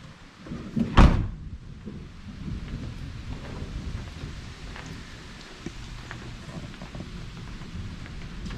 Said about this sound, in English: Had a pretty big storm coming in.